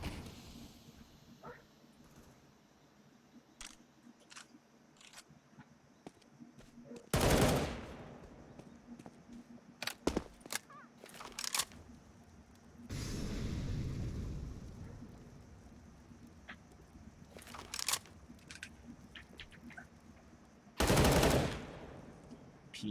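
Gunfire in a competitive Counter-Strike esports match, including AK rifle and P250 pistol shots: sharp isolated cracks and several loud bursts of rapid automatic fire spread across the round.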